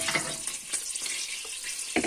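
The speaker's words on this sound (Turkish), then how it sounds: "Patatesler de etle birlikte biraz kızarsın." Steady sizzling and crackling of cubed potatoes frying with meat in a hot pan, with a few brief stirring clinks, no talking.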